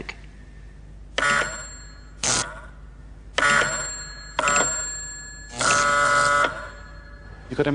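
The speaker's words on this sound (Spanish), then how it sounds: "si presiono este botón, suena la campana del receptor, y todo ello sin ninguna conexión por cable entre los dos aparatos" An electric bell on a wireless receiver rings in repeated bursts, a harsh buzzing clatter that starts and stops about six times, some bursts short and others held longer, with quiet gaps between and no talk.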